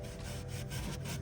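Cloth rubbing with rubbing alcohol along the inside edge of a 2024 Mustang GT/EcoBoost rear wheel area, prepped for a rock guard: close, steady back-and-forth scrubbing strokes in a quick rhythm, with no talk.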